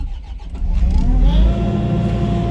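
A Kubota SVL 65-2 diesel skid-steer's engine runs loud and close. Its roar swells partway through, then holds a steady, heavy idle.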